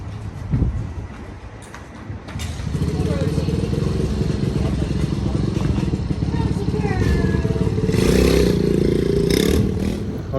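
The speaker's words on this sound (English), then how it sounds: "the kids are just goofing off with the little dirt bike" A little dirt bike's small engine buzzes and revs steadily nearby for several seconds, rising toward the end, with clattering in the background and people talking over it.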